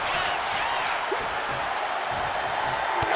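Wrestling arena crowd during a WWE Backlash ambulance match between Randy Orton and John Cena, a sustained distant roar of cheering with whistles rising above the wash.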